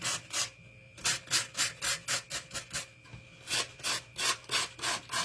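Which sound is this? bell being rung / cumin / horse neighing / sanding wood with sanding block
sanding wood with sanding block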